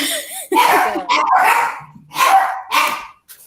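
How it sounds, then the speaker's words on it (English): A young puppy barks from another room, a run of sharp, fairly loud yaps and bow-wows in quick bursts with short pauses and a faint whimper. "My little puppy's in the other room"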